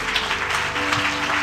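A church congregation applauds during a service, a brief, steady patter of many hands clapping over a sustained low musical drone from instruments.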